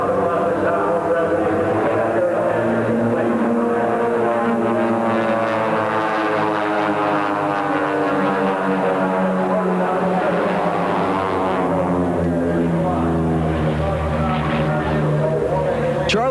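Eagles Aerobatic Team propeller biplanes drone past in formation at an airshow, a steady layered engine hum with slowly shifting pitch throughout, under continuous announcer narration.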